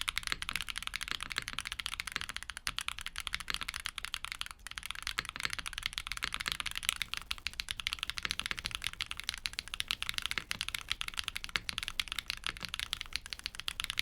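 Someone types steadily on a keyboard fitted with Gateron tactile mechanical switches, a fast, even stream of crisp clacks heard close and alone, with no voices.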